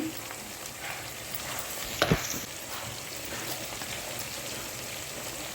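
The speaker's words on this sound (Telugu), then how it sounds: "తలకాయ వేస్తున్నాను" Tiger prawn heads fry in a pan for a Telugu prawn pulusu, with a steady close sizzle throughout and a brief louder clatter partway through.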